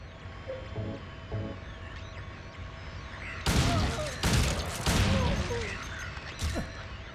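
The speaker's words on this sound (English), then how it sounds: "it's time to bring out the shotgun" Shotgun blasts in Silent Hill 2, several loud, sharp booming shots in close succession over a dark, droning ambient background with faint earlier knocks, no talk.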